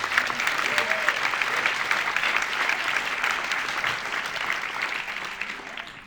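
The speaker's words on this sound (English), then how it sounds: "a warm applause for the third keynote speaker, Professor Gijbels" Warm audience applause welcoming a keynote speaker at an education research conference, dense continuous clapping that tapers slightly toward the end, heard alone without speech.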